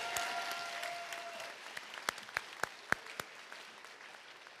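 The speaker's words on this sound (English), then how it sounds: "we need to give them a big round of applause" Audience applause at the Dubuque Online School 2025 graduation ceremony for the principal and online school staff: a full, even burst of clapping that thins out into a few scattered, sharp individual claps near the end.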